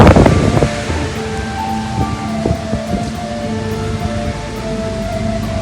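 Strong wind sweeps across a foggy hilltop in a loud, steady rush with low rumbling buffets, starting with a sharper gust and then holding constant, no voices.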